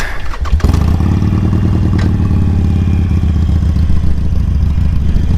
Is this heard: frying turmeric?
no